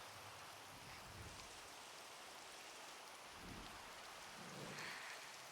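Steady hiss of rain falling in Minecraft, with low rumbles rolling underneath, continuous and fairly quiet with no voices.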